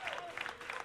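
Applause from the video game Slay the Princess, a brief burst of crowd clapping rendered as a game sound effect, steady and moderately loud for under a second.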